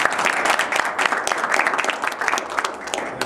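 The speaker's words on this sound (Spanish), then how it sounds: "Un aplauso" Audience applause after a hackathon winner announcement, dense steady clapping from a room of people lasting the full few seconds, with no clear speech over it.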